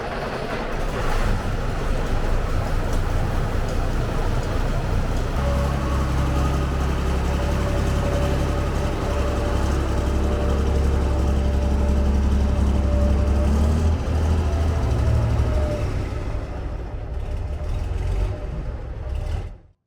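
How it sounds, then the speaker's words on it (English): A 1959 International Harvester RDF 230 H truck's Rolls-Royce 210-horsepower diesel engine idles steadily with a deep, low rumble and a faint whine, close by and continuous, fading out at the very end. "it has a Rolls-Royce 210 horse diesel engine."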